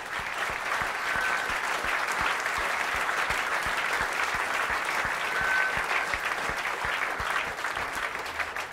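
Audience applause at the Montreux Jazz Festival rolls on continuously, a thick, even crowd of clapping hands with a faint rhythmic pulse underneath, loud and unbroken throughout.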